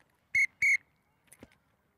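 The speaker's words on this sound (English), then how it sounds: "when I blow the whistle twice" A coach on a junior football training field gives two sharp, loud blasts on a whistle in quick succession, followed by a faint shuffle afterward.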